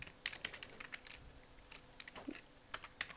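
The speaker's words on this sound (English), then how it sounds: "I'm going to just go right there and type in" Rapid keyboard clicks on a computer keyboard, crisp and close, tapping in an uneven rhythm as text is entered, with no voices.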